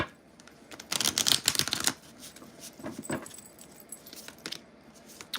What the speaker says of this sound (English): Okay, let's really shuffle this.